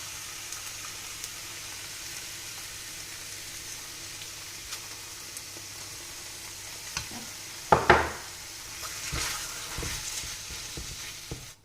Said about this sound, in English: you have to keep stirring so that it doesn't stick